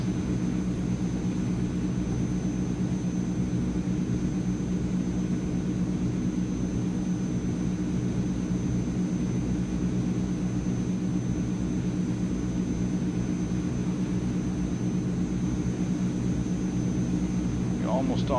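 The engines of a Transall C160 cargo plane in Microsoft Flight Simulator give a steady, loud low drone with a constant high whine, unbroken throughout.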